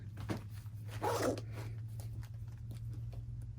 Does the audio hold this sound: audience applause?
no